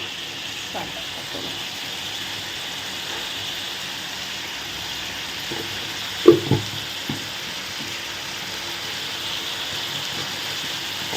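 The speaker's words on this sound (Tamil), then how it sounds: "சால்ட்டு போட்டு மறுபடியும் மறுபாட்டி இந்த மாதிரி கிளறி வைப்பாங்க தக்காளி பழம் நல்லா வேகட்டும்" A tomato and drumstick curry sizzles and bubbles in a pan, a steady close frying hiss with a few sharp knocks of the stirring spoon against the pan midway.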